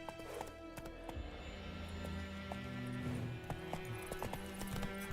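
Roach the horse galloping in The Witcher 3: Wild Hunt, rhythmic hoof clip-clops over a dense game soundscape with tonal music, steady and moderately close.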